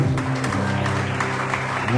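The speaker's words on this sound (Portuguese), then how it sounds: "Pode aplaudir o Senhor." A church congregation applauding during an evening service, a dense, continuous burst of clapping from many hands that fills the room, with voices mixed in.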